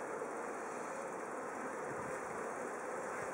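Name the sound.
honey bees buzzing on a hive frame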